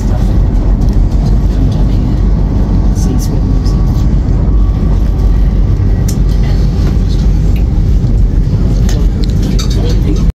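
A train travels along the sea coast on the Cornwall to Portsmouth line, giving a loud, constant rumble and roar with faint clinks throughout, heard from close by.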